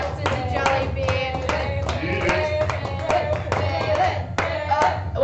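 A game show audience at a live stream claps to cheer on a contestant, a steady run of fairly loud, rhythmic hand claps lasting several seconds with no talk.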